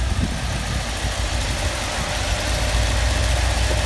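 Rough idle from the engine of a 1987 Chevrolet Camaro IROC, stumbling slightly with an uneven, knocking pulse and vibration, heard close and steady with no talking.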